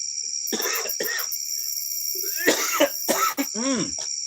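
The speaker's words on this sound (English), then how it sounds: "Still got my cough." A man with a lingering illness coughs several times, short harsh bursts with throat clearing, close to the microphone during a live workshop stream, over a constant high-pitched whine resembling insect chirping.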